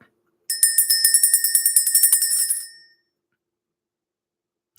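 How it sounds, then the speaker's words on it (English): A bright bell rings in a rapid, even series of strikes for about two seconds, then fades out, followed by silence and a faint click. "Let's ring the bell."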